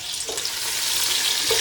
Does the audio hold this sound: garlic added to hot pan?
yes